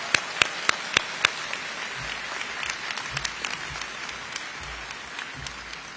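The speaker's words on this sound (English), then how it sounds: "So please help me give them a round of applause." Crowd applause at a high school commencement ceremony in a large venue, a dense wash of clapping with a few sharp louder claps near the start, steady and moderately distant for the whole stretch.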